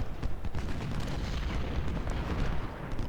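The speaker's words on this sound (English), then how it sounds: "No, cannons, what are you doing?" Continuous booming cannon and artillery fire from a Civil War battle at Shiloh in Ultimate General: Civil War, a dense, steady rumble of overlapping blasts with no talking.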